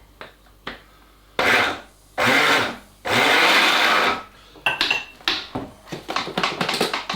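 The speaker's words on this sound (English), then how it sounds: "Not easy with a blender, is it?" Blender pulsing pastry dough with egg yolk in short bursts: three longer whirring runs, then a quick string of choppy, grinding pulses as the dough thickens.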